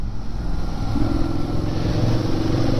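A Ducati S2R 800 motorcycle running on its catalytic converter and standard exhaust, a steady close engine drone with a deeper note rising after the first second, continuous and fairly subdued with no voices.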